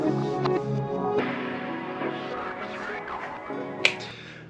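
A song played in reverse: dense, swelling tones and warped voice-like sounds that fade in rather than out, with one sharp snap-like burst near the end.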